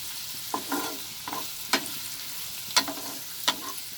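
Onions fry in a pan over a raised flame with a soft, steady sizzle, broken by several sharp scraping clicks as a spatula stirs them.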